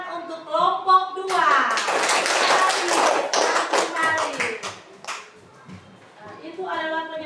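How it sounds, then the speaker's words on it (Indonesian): A burst of clapping from a small group rises after a brief voice, lasts a few seconds, then fades as talking resumes. "Tepuk tangan untuk kelompok 2."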